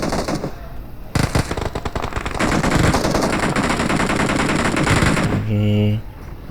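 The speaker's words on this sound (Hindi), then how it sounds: "आगे दोनों तरफ फायर हो रही है।" Rapid automatic gunfire from both sides in PUBG Mobile, loud dense bursts of machine-gun and rifle fire sustained for several seconds before cutting off, with a brief game tone at the end.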